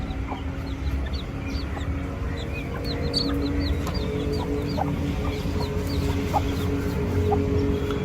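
Hens of a small native breed cluck repeatedly in a rural yard, with short, close, overlapping calls scattered over steady background noise.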